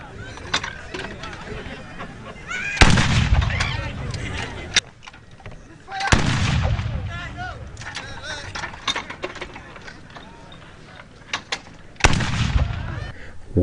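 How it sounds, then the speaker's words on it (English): Volleys of a military gun salute at the burial of a decorated general, sharp loud blasts around 3, 6 and 12 seconds with echoing decay, amid a murmur of crowd sound and background voices. "Gun salute and social distancing observed during the burial ceremony."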